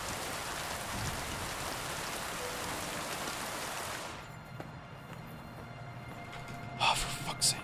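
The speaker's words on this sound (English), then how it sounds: "I love rain." Rain falls steadily in the video game Kingdom Come: Deliverance II as a dense, hissing wash that thins out partway through, followed by a couple of brief faint breaths or vocal sounds.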